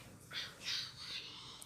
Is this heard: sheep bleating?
no